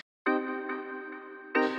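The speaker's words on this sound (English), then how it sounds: "And the delay on quarter and 1/8, the effect sounds like this." A sustained bell-like synth tone rings steadily, then a repeat of the note re-enters near the end, echoing the first strike.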